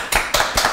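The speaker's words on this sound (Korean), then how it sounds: "저희 박수 그래도 훈훈하게" A short round of applause from a small audience at a live talk event, heard as a few close, sharp bursts of clapping within under a second.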